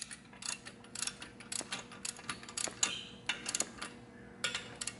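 Ratcheting socket wrench snugging nuts onto exhaust studs at the exhaust port of a Suzuki motorcycle, a run of quick close clicks in short bursts with brief pauses.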